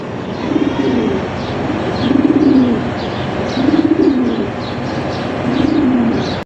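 A black Paribon fancy pigeon coos in four repeated throaty rolling phrases, close and clear, with light chirps in the background.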